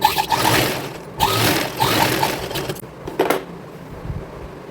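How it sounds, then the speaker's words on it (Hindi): A sewing machine runs in uneven bursts, close and fairly loud, as it topstitches a press seam on a blouse, with faint rhythmic ticking of the needle and short pauses between runs. "अब इसके ऊपर से हम एक प्रेस सिलाई लगा देंगे।"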